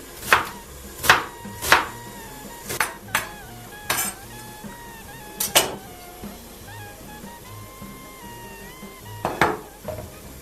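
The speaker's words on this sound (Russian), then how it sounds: "Лук нарезаю мелко, мелким кубиком." A knife chops onion finely into small cubes for a meatless bean borscht, striking a board in sharp, close, irregular knocks with pauses between short bursts, and no one talking.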